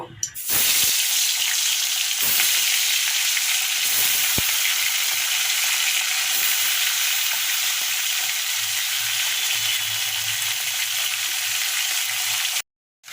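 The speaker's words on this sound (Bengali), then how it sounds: "এবার মাছগুলো একে একে দিয়ে দেব" Loud, continuous sizzling of fish frying in hot oil, close up and steady for the whole stretch, with a few soft clatters of stirring.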